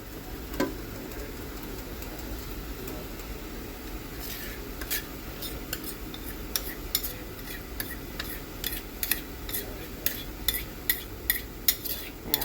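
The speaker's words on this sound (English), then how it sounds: "I'm going to get my other spoon so that I can scrape the ladle" Spoon scraping thick homemade Christmas strawberry jam off a ladle, a run of sharp metallic scrapes and clinks in a fairly steady rhythm after a few quiet seconds, close up, with no talking.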